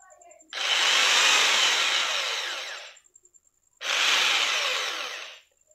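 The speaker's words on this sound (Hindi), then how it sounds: "जैसे हम इसको राइट सेट करते हैं तब ड्रिल बिट घूमती है क्लॉक वाइज" An electric drill spins its bit clockwise in two loud bursts, the first about two and a half seconds long and the second shorter, with a steady whirring whine and quiet pauses between them.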